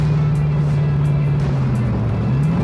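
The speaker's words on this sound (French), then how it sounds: "Regardez le frein moteur." A car engine drones loudly under engine braking, its low note sagging steadily before rising again at the end, heard up close.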